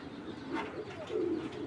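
Pigeon cooing in low, throaty phrases from a breeding bird of a Basic-generation male line, kept in a Bangladeshi loft; two soft coo bursts close by with steady background hum and no talking.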